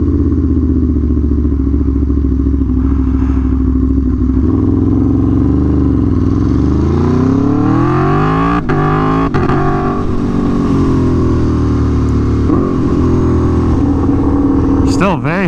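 An Aprilia Tuono V4 motorcycle accelerating hard, its loud engine note climbing in pitch and then dropping abruptly at quick-shifter gear changes, repeated across several rising sweeps, heard up close with a rider's voice talking over it.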